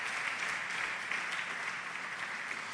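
A church congregation applauds during a worship service, a steady wash of many hands clapping together, fairly faint and distant with no distinct voices.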